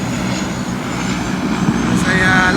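A seaplane pulls in at a Maldives private island resort, a loud, steady propeller-engine drone filling the whole stretch, close by, with voices faintly underneath.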